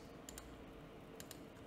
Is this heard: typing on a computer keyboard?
yes